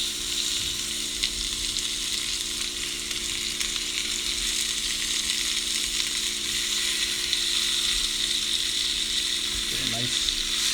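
Meat searing in a cast iron pan, a loud continuous hissing sizzle held steady throughout, close up with no pauses.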